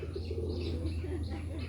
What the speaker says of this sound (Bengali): এখন খোপের ভিতরে যে অন্য খোপের ভিতরে যে বোম্বাই কবুতরে ডাকতেছে